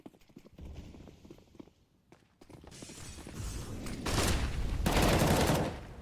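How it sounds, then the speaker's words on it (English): Rifle fire in CS:GO on the Inferno map, including a Galil, with bursts of rapid shots rising in loudness toward the end amid game noise. "It's a nice second shot from leikkeet, but the Galil to gun him down."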